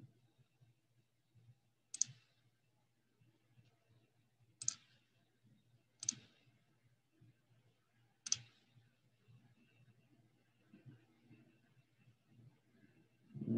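Four sharp, quiet mouse clicks spaced a couple of seconds apart over a low background hum at a computer desk, with no talking.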